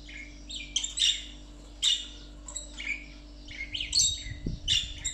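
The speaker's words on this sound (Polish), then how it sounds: "a tutaj za oknem mi śpiewają ptaki" Birds sing outside a window in Cyprus, with several short bright chirps and squawks at irregular intervals against a quiet room hum and a brief low thump near the end.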